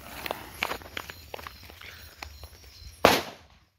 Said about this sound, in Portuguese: Gente, agora eu vou soltar bomba.